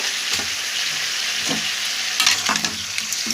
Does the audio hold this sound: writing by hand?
no